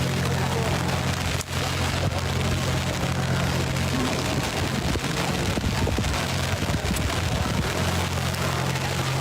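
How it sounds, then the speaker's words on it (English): Light rain falls steadily outdoors at a street protest in Rochester, NY, a dense even patter with low rumbling background noise throughout. "A little bit of rain."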